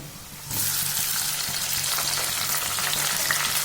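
Tomatoes hit hot oil already holding mustard seeds, cumin, whole spices, onion and curry leaves, setting off a loud, close sizzle that bursts in after a brief quiet moment and carries on steadily.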